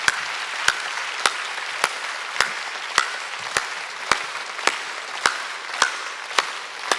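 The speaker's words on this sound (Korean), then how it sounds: "이거 박수치라" A church congregation at a Korean worship service claps in unison, sharp steady beats a little over half a second apart, repeating about a dozen times over a low background murmur.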